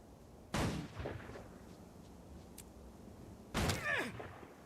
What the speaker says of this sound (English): Somebody's over here shooting at me.